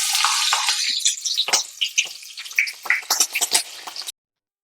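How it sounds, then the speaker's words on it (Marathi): Large-cut green chillies frying in hot oil for a fasting-style potato chivda, a bright crackling sizzle with bursts of popping that cuts off abruptly near the end, no voices. "आता इथे मी मिरचीचे मोठे मोठे कट करून घेतले आहेत आणि मिरची हे तळून घेणार आहे"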